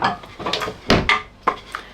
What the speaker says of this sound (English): let's find a chopping board